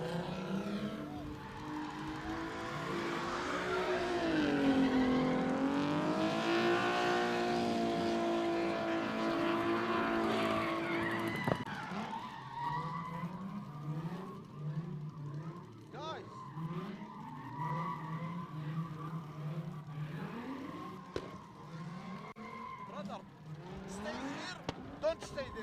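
A car drifts at a live event, first a loud, sustained tire squeal and engine howl rising and falling for about ten seconds, then a repeating pattern of shorter skids and revs as it circles, with distant crowd noise beneath.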